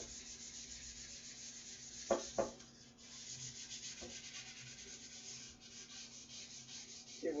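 A surface is hand-sanded lightly to roughen it, giving quiet, steady rubbing strokes up close, with a couple of sharp knocks a few seconds in.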